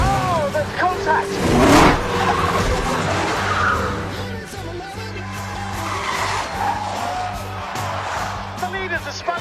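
Race cars skid and spin out after contact during a Formula One race, with loud tire squeals and engine roar over a crowd, while a commentator talks over the whole scene.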